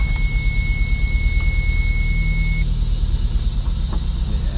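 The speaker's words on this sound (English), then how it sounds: "Yeah, I can't even give it throttle now. It's bogging out now" Toyota MR2 with a swapped K24 engine and a failing aftermarket throttle body, running rough and bogging: a steady low engine drone with a thin high whine, heard close and without talk.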